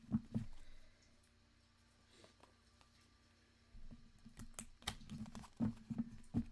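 Tarot cards are shuffled by hand close to the microphone in quick, soft clattering bursts, with a quiet pause between the riffles.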